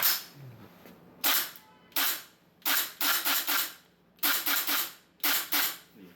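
GBLS DAS M4 GDR15 CQB airsoft gun firing 6mm BBs in quick bursts of sharp, crisp cracks, loud and close, with short pauses between each volley and a quiet background.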